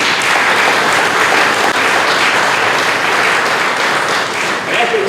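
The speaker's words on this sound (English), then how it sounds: "So let's give them a round of applause." A crowd applauding firefighters at a fire station ceremony, with steady dense clapping sustained for several seconds.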